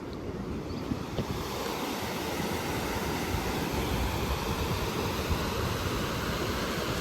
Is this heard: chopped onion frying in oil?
no